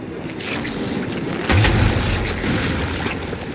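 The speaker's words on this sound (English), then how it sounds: "The teapot cannon can be used to demolish weak surfaces in range." A teapot cannon fires in the action game Alice: Madness Returns with a single deep, heavy boom partway through, over a steady rushing game ambience.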